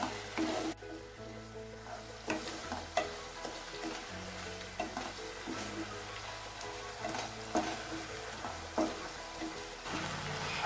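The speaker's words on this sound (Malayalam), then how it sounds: "ഇത് നമ്മൾ ടൈറ്റ് ആകുന്നത് വരെ ഇളക്കിക്കൊണ്ടേ ഇരിക്കണം" Carrot halwa with added sugar being stirred in a pan, giving repeated scraping strokes over a continuous soft sizzle at close range, with no talking.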